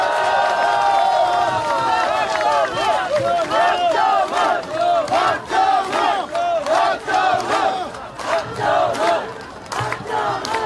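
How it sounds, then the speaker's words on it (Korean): A crowd at an outdoor election rally at the Seokchon Lake Seoho intersection in Songpa, Seoul, cheers and chants in loud rhythmic shouts over scattered clapping, sustained and close, with voices swelling and dipping throughout. "우리 송파갑의 박정훈 후보를 위해서 힘찬 박수 부탁드립니다"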